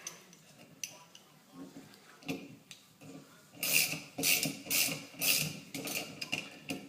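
A 13mm nut comes off the rear wiper arm of a 2002 Mercury Mountaineer, heard as quiet intermittent ratcheting and scraping clicks, with a denser burst of rasping strokes in the second half.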